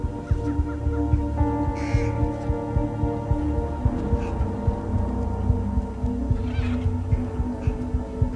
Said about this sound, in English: there's a bird there